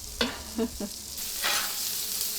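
Steak and lobster tails sizzle steadily on a Blackstone griddle, a few sharp scraping taps of a spatula up front before the frying hiss swells, close and moderately loud with no talking.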